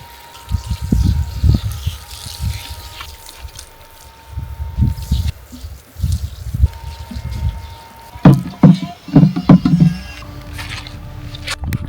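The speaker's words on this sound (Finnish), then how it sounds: "USB-ladattava akkusuihku. Niin tällä mä meinasin peseytyä." A USB-rechargeable battery shower sprays warm water during a camping stop on an electric-car trip to northern Norway, giving a steady hiss and patter of water with louder splashes and gurgles toward the end.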